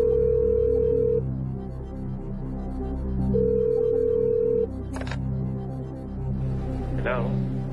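A telephone call is placed during a game-show lifeline, with loud repeated electronic ringing tones and pauses over a steady background hum, no voices.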